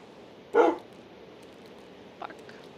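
Dog in the Minecraft video game gives a single sharp bark, followed moments later by a fainter short yip over quiet background.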